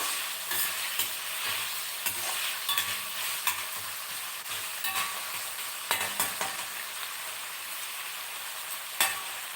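Potato pieces frying in a pan for a capsicum aloo curry give a continuous close hiss and crackle, with scattered clicks of stirring and one sharper knock near the end.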